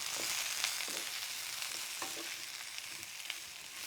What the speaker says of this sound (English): Yes, so you will be able to see now that the cauliflower is charring.